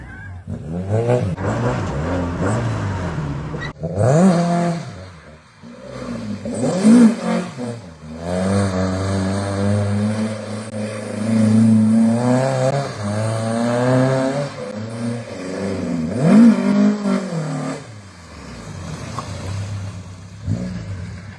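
An old Volkswagen Beetle rally car with spotlights on the front drives along a road in Mexico, its engine droning and rising in pitch through several revs, loud and close for the whole stretch.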